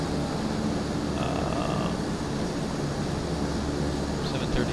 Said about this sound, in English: Oh, no, it's a helicopter.